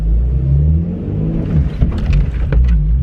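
A stick-shift project car being driven in first gear by a learner, its engine a steady close low rumble with light clicks and rattles toward the end.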